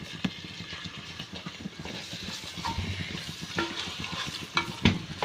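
Biryani masala with a handful of mint stirs in a pan, a close sizzle of frying broken by repeated scraping and clatter of the spoon against the vessel, uneven and busy throughout.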